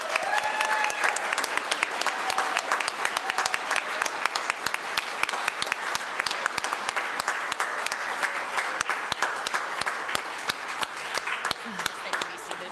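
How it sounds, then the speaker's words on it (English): A church congregation at a Unitarian Universalist service claps together in a steady, sustained round of applause, many hands at moderate distance, with a few voices mixed in. "Let us give a round of applause on 3."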